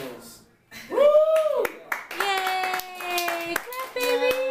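Hands clap at a child's birthday party right after the candles are blown out, with a few sharp claps mixed under loud, cheerful voices calling out over them.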